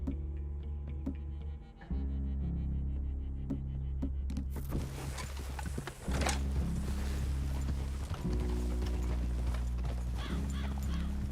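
Horses clip-clopping along in Red Dead Redemption 2, steady hoof beats in a game soundscape with a low continuous music-like drone underneath and no talk.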